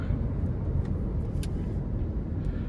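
A 2008 Toyota Camry SE with about 188K miles cruises along with a steady low road and engine rumble, a continuous interior drone with tire noise and no distinct shift events standing out.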